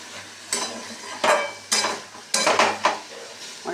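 Soybean curry with spices stirred in a pan: five or six distinct scraping strokes, irregularly spaced over a light sizzle, close and clear.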